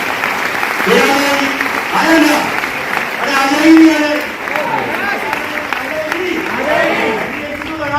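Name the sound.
audience clapping at a seminar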